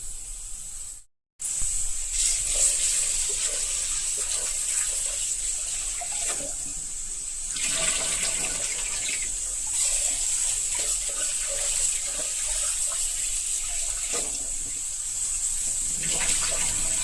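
Water poured onto washed toor dal in a pressure cooker makes a steady hissing splash that runs for several seconds, with surges in the flow and a short gap near the start.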